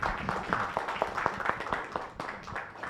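A modest audience at a wildlife biodiversity conservation symposium claps for a presenter, with distinct separate claps in an irregular pattern, fairly faint and lasting a few seconds.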